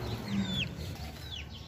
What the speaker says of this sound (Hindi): ये है जी मुर्गियां, एक मुर्गी है साथ में उसके चूजे हैं छोटे छोटे